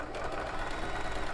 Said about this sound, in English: we'll sew all the way around